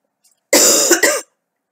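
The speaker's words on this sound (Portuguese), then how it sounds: "Estou com uma tosse" A person coughs in two hard, close bursts, the first longer and the second cut short, with no speech around them.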